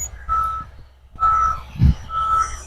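A truck reversing into a residential estate at Ibeju Lekki, its reversing beeper sounding in three steady bursts over low rumble, with a brief crow-like caw in the middle.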